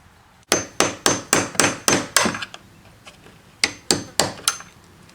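Hammer blows on a nail or punch driving out a door hinge pin: a quick run of six sharp metallic strikes, a pause with faint taps, then three more close, loud hits.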